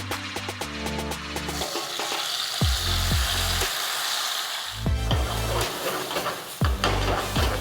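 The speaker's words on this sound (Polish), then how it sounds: "Pomidory muszą teraz się podsmażyć, udusić około 20 minut." Tomatoes frying and sizzling in extra-virgin olive oil with lightly golden garlic in a hot pan, a steady loud sizzle broken by several sharp stirring scrapes and clinks, close up with no talking.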